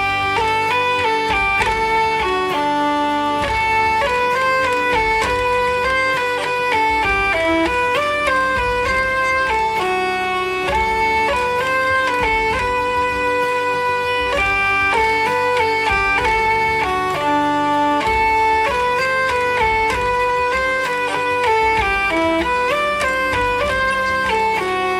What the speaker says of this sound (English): We're done with all the hurdy-gurdy recordings.